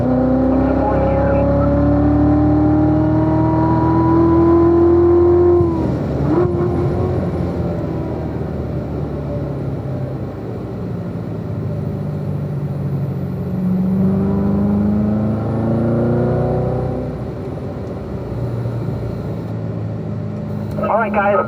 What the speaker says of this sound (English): Unwind, accelerate, full throttle.